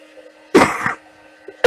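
A single sharp, loud cough rings out close by against a quiet background hum, followed by a brief throat sound at the end.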